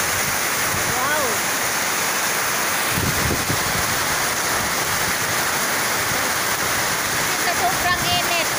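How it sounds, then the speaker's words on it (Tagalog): Heavy rain pouring down in Manila, a loud, continuous broadband roar of downpour throughout, with faint voices and a few brief chirpy tones mixed into the wash. "Ang lakas ng ulan sa Maynila."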